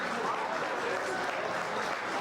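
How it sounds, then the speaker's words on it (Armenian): Wedding guests give a steady, dense round of clapping for the godfather and his wife, a continuous burst of applause from a crowd at the celebration. "ուզում եմ մի հատ առանձնատուկ բարձր ծափարենք մեր քավորին եւ քավոր տիկնոջը"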